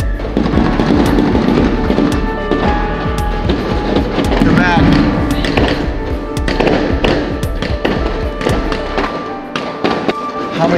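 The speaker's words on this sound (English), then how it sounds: "How many fireworks these people have?" Fireworks pop and bang continuously, many sharp explosions overlapping into a dense crackling barrage with whistles, some near and some farther off.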